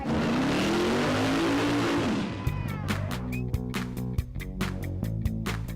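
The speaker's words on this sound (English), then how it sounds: "This is so cool because they actually want them to burn rubber." Cars burning rubber at an outdoor car show: a sustained roaring engine and tire-spin noise for about two seconds, then it gives way to revving and rapid sharp cracking and popping bursts, loud and close.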